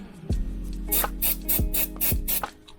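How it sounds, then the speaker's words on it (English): Several short hissing bursts from a spray can aimed at Jeep Cherokee XJ brake parts, close up, in a quick uneven rhythm with brief pauses between them. "Don't know why I spray like that."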